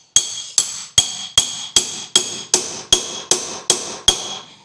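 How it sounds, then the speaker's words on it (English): Eleven sharp metal hammer blows on a BMW iX front drive axle land one after another at a steady, even pace, each ringing briefly before the next strike. "I could have used a better hammer than this actually,"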